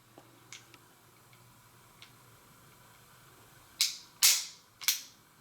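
Beretta 92G Vertec pistol being dry-fired in double action, faint ticks as the trigger is drawn back, then several sharp, loud metallic snaps close together near the end.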